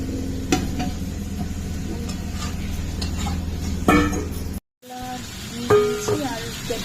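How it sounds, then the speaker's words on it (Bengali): Paneer fries in a pan with capsicum and potato in a home kitchen. A steady sizzle runs under stirring, with sharp clinks of a utensil against the pan and a brief break near the end. "এই যে পনিরটাকে ভেজে কষিয়ে নেব।"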